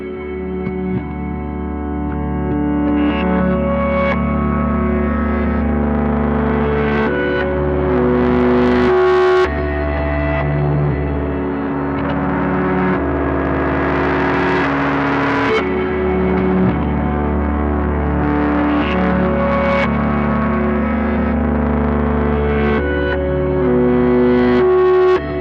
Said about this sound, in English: Saturate recreates a unique form of magnetic saturation that occurs when loud